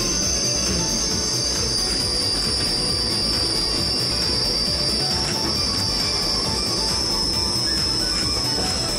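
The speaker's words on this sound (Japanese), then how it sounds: "にしても、ブレーキ音がうるさすぎるぜ。" A Bernina Express train brakes on the track, its wheels giving a loud, continuous high metallic squeal over a steady rolling rumble of the railcars, close and unbroken throughout, with no talking.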